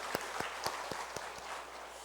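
A church congregation at a Sunday worship service claps, a soft, slightly distant patter of applause with a few sharper claps at a steady beat.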